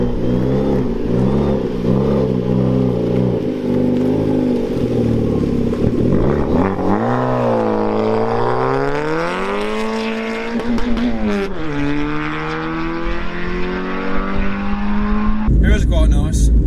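Modified, very loud Citroen C2 driving on a road, heard close from inside: a steady idle-like rumble gives way to hard revving that rises and falls through gears, with people talking.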